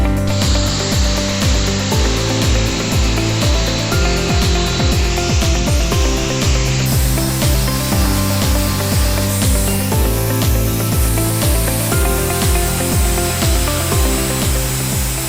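A marble saw grinding the edge of a porcelain tile countertop, a loud continuous rough buzzing with rhythmic scraping strokes throughout and a high whine in the first half.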